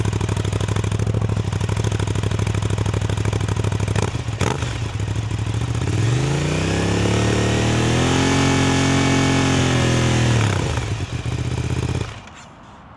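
An Aprilia RS660 motorcycle fitted with an SC Project CRT exhaust idles loudly up close. It revs once in a smooth rising and falling sweep, then settles before cutting off near the end.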